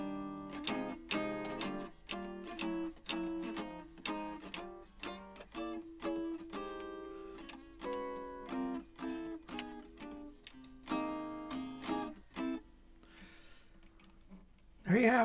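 Gibson ES-175 archtop guitar played unplugged, its bare acoustic tone carrying a string of crisp plucked notes and strummed chords in an uneven rhythm, close and fairly quiet with no talking.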